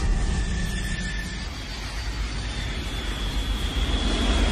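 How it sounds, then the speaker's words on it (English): An airliner climbs with its jet engines at full thrust, a loud, continuous roar with a steady whine running through it, dense and unbroken for several seconds without voices. "The inner engine was at full thrust as the plane climbs."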